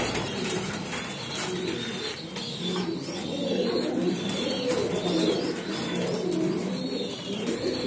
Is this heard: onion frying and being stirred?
no